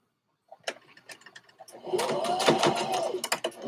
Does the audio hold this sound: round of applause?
no